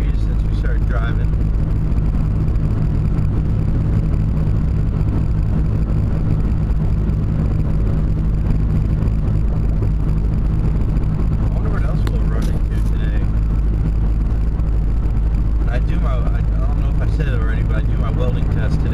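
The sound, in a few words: car driving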